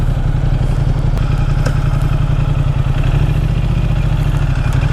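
A 2016 Ducati X Diavel S motorcycle engine running steadily, a loud, close, deep throbbing rumble that holds an even rhythm throughout, with no talk over it.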